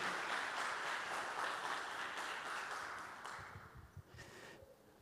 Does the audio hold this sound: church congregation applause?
yes